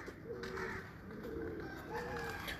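Surkha pigeons coo softly in a series of low, rounded calls, faint and close, with a steady background hum behind them.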